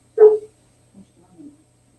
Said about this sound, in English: He's out there barking.